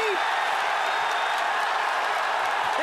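Crowd cheering and applauding at an MMA fight after Aung La Nsang's submission win, a steady dense roar of clapping and shouts sustained throughout, loud and broad with no gaps.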